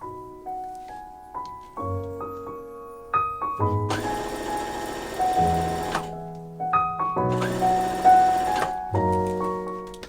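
A sewing machine stitching a drop-waist bubble hem dress, running in two bursts of rapid mechanical whirring a few seconds apart, with soft music playing underneath.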